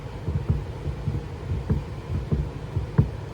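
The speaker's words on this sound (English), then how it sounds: "what you're hearing is the tiny bit of play between the key and the keyway" A machined steel key sliding metal on metal in its keyway with slight play, giving soft, low repeated knocks and clicks at an uneven rhythm, close and fairly quiet.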